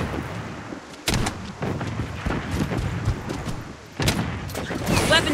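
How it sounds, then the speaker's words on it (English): A defensive turret in a video game fires at an enemy in loud, repeated broadband bursts, with heavier blasts near the start and end amid continuous battle noise. "Defensive turret activated. Enemy hit!"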